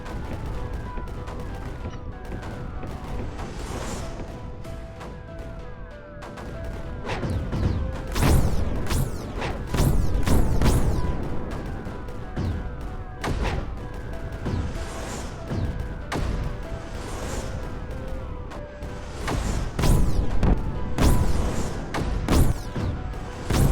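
Creeper eggs blow up in the strategy game Creeper World 4 in a long run of repeated crashing blasts and thuds, some clustered and some spaced, over a steady game hum.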